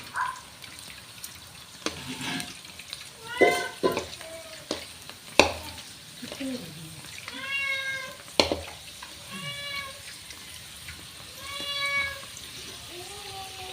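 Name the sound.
puris deep-frying in oil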